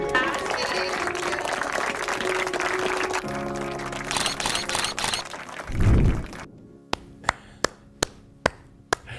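Applause for children at a community center visit in a tough area of Ciudad Juarez: dense, steady clapping fills the first seconds, then fades into scattered sharp clicks and taps.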